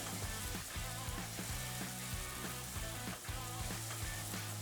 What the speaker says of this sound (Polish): wrzucamy czosnek oraz cebulę